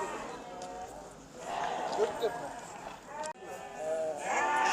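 Lambs, male and female, bleat repeatedly nearby amid a busy outdoor pen in Şarkışla, Sivas, with people talking in the background and occasional shuffling.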